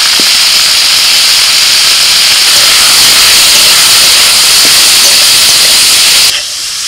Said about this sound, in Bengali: নাড়াচাড়া করে সবজিগুলো ভালো করে ভেজে নিয়েছি